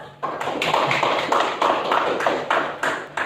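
A classroom group applauding together after a student presentation, a steady burst of many hands clapping close by, with rhythmic swells throughout.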